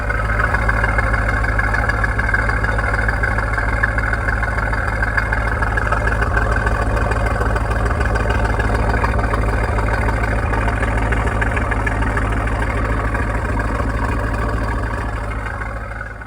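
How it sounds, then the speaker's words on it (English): A 2003 Chevrolet Corvette convertible with a six-speed manual idles through its exhaust, a steady low rumble held at an even level for the whole stretch, close and alone. "let's have a listen to the idle"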